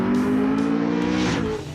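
A race car engine rated over 740 horsepower revs hard and close by, a loud buzzing harmonic drone that climbs and falls, then eases off at the end.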